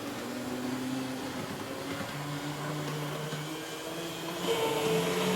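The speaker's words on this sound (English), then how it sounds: "Just normal track noise now." A continuous low mechanical rumble and hum from an Atlas EMD S9 model locomotive's small wheels rolling on track, fairly quiet and steady, swelling a little near the end.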